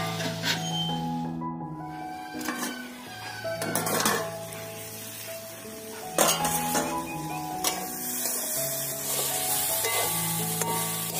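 Water lily stems seasoned with salt and turmeric cook in a covered pan in a village kitchen, giving a steady soft sizzle with occasional clinks of utensils and a tonal background, and no talking.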